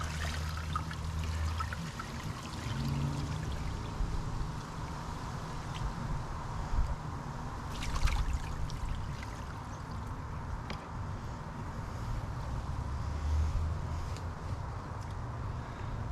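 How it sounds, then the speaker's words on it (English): Water poured out of a bucket during brass cleaning, a steady rushing, trickling pour that runs continuously at moderate level with no talk over it. "Dump the bucket."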